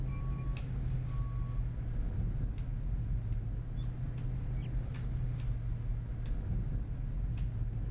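A farm vehicle drives along in the Farmer's Dynasty game, giving a steady low engine drone throughout with a few faint beeps near the start.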